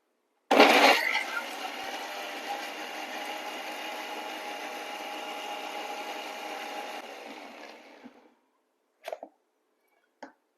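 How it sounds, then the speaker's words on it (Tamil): Kitchen mixer grinder finely grinding tomato rasam ingredients, a steady loud whirring buzz running about seven seconds after a sharp start, then winding down, followed by two brief clinks. "நல்லா நைஸா அரைச்சுக்கலாம்"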